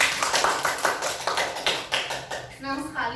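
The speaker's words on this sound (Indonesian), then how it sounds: "tepuk tangan dulu" A class of students in a microteaching lesson clapping hands together in quick, regular rhythmic bursts, close and fairly loud, with voices mixed in.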